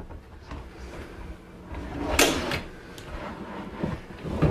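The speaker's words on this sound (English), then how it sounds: "You're going to put the drawer slides back and pull the ball bearings to the front." A drawer glides on ball-bearing slides, giving soft rolling rumbles with a few sharper clicks and knocks as it is pushed and adjusted, close and fairly quiet with no talk.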